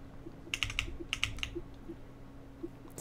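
Fingers click rapidly on a computer keyboard during a Minecraft Skywars match, bursts of quick keystrokes clustered near and fairly faint, with sparse single clicks between, no talking.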